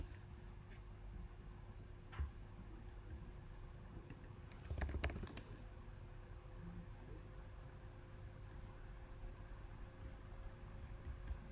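Soft, quiet clicking of a computer keyboard in a room with steady background hiss, with one brief denser burst of keystrokes midway.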